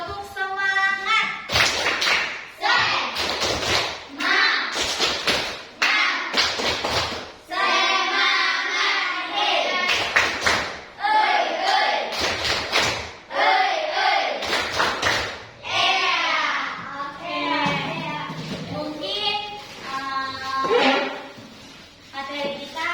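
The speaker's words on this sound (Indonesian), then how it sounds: "Tepuk semangat" Fifth-grade schoolchildren in a classroom perform a rhythmic clapping chant, with sharp hand-clap bursts in patterned sequences mixed with loud group chanting and calls.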